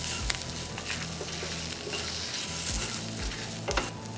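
Ingredients for a South Indian turkey berry vathal kuzhambu fry in a pan with turmeric powder, a steady close sizzle broken by scraping stirs and occasional clinks of a utensil against the pan, with no talking.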